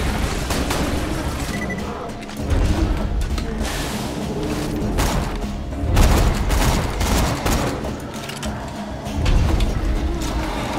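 Chaotic gunfire in the video game Borderlands 2, with continuous loud bursts and booming impacts layered over engine-like rumble throughout.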